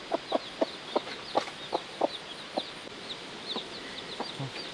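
A flock of recently hatched young chickens clucks in short, sharp, evenly spaced bursts, fairly close and clear, with faint chirps between calls.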